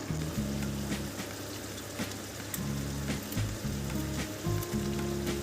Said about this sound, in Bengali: এবার এটা দিয়ে চিকেনটা আর একটু কষিয়ে নেব।